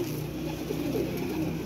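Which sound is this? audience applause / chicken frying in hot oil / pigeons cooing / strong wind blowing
pigeons cooing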